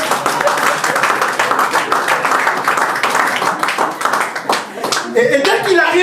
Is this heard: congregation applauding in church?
yes